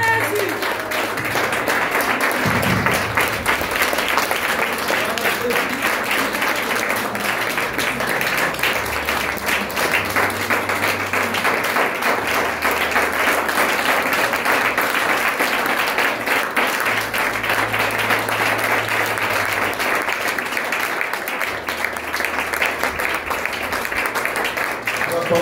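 A church congregation applauds in praise, a dense, steady wash of clapping that fills the room for the full length, with faint voices and music mixed beneath.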